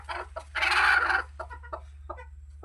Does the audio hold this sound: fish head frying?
no